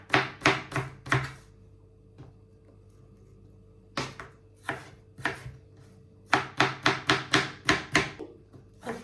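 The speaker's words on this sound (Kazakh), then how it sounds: "мен барлық алманы осылай ұсақ қылдып турап алдым" Apples chopped finely with a knife for a quick dessert: sharp, close knife strokes on a board in fast rhythmic bursts, with a quiet pause between rounds.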